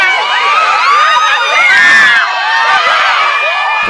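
A dense crowd at a Kentucky Derby party, held back by ropes while awaiting arriving celebrities, shouts, whoops and cheers in overlapping high voices, loud and close for the full stretch.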